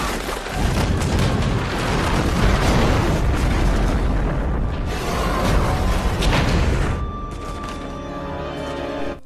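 A loud, rumbling explosion roars and crackles for several seconds, then slowly fades into a lingering, lower rumble.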